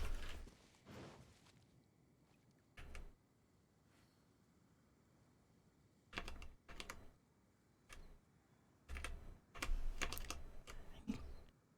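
Bursts of typing on a computer keyboard, with short clusters of clicky keystrokes separated by quiet gaps, heard fairly faintly against a low room background.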